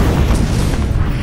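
Ship gun batteries firing in the naval combat video game Battle Stations Pacific, a loud continuous rumbling boom with heavy low-end roll, close and without pause.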